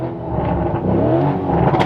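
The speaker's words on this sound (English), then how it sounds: "That's a stock exhaust." A car engine with a stock exhaust revs steadily up close with a smooth, fairly muted exhaust note, holding a sustained drone throughout.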